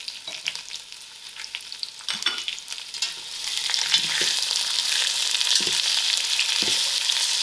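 Onions sizzling and frying in a pot while being stirred, a steady hiss that grows fuller with scraping stir strokes throughout, close and without talk.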